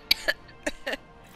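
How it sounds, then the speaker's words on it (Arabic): Several short, sharp coughs in quick succession, four bursts spread over about a second, fairly close and moderately loud with no talking. "كنت بكح في وجهك"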